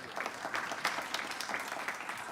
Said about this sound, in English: Dr. Refilwe Lipere, another round of applause, please, for him.